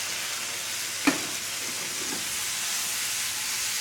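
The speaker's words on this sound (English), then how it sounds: "I'm going to add a little more of our pickling juice from the jar of peppers here." Pickling juice from a jar of vinegar peppers hits a pan of Italian sausage, a steady frying hiss with one sharp clack near the start and faint stirring after, no voices.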